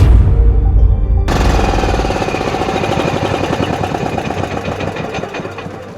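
A boat engine chugs loudly and close with a fast, steady knocking rhythm, slowly losing strength over a few seconds as it begins to die.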